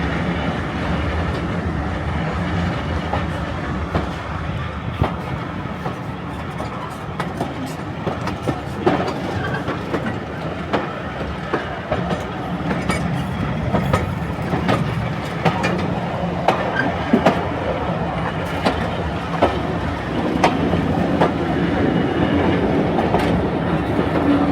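A train on the Esk Valley Line rumbles steadily along the tracks, wheels clicking and clattering over rail joints in an ongoing, fairly loud roll with no talking.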